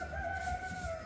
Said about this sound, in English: Turkeys are very cool,